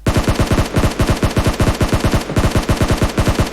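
Rapid automatic gunfire in a video game, a loud, steady stream of closely spaced shots running nearly continuously with only brief pauses, no talk over it.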